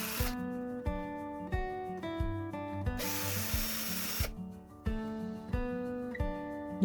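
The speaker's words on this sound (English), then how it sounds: "We also drill a recess in the base for the screw head" A power drill whirs in short, repeated bursts that rise and fall in pitch as it bores a recess in a wooden base, with one rougher grinding stretch midway, close by.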